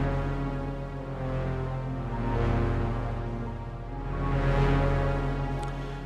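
A lush synth pad patch built in the Vital synthesizer, inspired by the Interstellar film score, plays with all filters switched on: sustained, swelling chords that rise and fall in two slow waves, heard alone.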